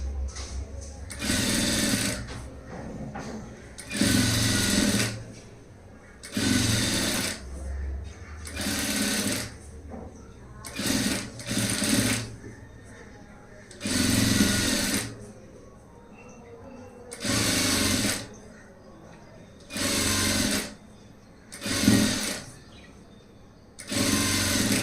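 Sewing machine stitching a 3 dot blouse, running in a steady rhythm of roughly a dozen loud, close bursts of rapid mechanical whirring, each separated by short pauses.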